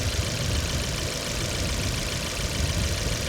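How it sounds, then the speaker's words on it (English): A 427 Corvette engine runs steadily at idle, a loud, even rumble with a faint ticking texture and no voices. "The engine's running okay."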